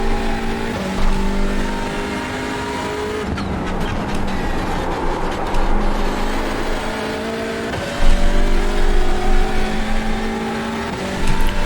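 A Hyundai Elantra TCR race car in iRacing at Knockhill, its engine droning loud and steady as revs climb and dip through gear changes, with sharp shifts near the start and about two-thirds through.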